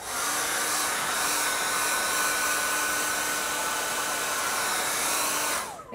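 A hair dryer blowing on a freshly painted poppy flower watercolour, a loud, steady whirring roar held close for several seconds before it cuts off.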